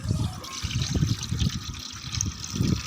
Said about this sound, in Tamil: ஒரு லிட்டரு பாலை சுண்ட காய்ச்சி அரை லிட்டர் ஆக்கி அதில் ஒரு லிட்டரு தண்ணி ஊற்றி கொண்டு வந்து ஊற்றுறாண்டி